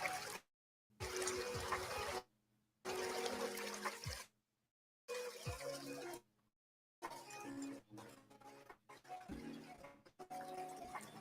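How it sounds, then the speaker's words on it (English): Running water in the Spirit City video game, bursts of trickling, splashing flow that cut in and out in several short segments, fairly quiet with faint clinks and music-like tones underneath. "Running water almost sounds like a river, so we need river"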